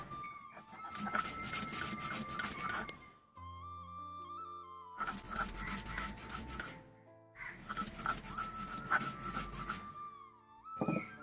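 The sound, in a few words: grinding soaked rice into a paste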